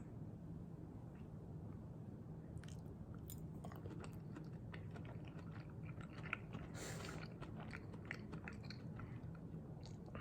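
Chewing Brussels sprouts sprinkled with green salt, with steady soft crunching and mouth noises at close range over a low background hum, and no talking.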